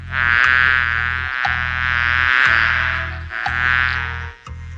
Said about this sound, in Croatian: Kraljica i Gloomhilda špijunska pčela se konačno vratila